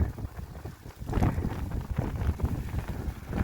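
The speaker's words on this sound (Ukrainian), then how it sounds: "А вітер у нас не припиняється." Gusty wind buffets the microphone in low rumbling rushes, steady and close, with no voices, in a garden in the Netherlands.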